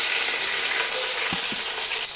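Curry leaves sizzle in hot sesame oil with dried chillies for a mango pickle, a steady close frying hiss with a couple of brief stirring knocks and no talk.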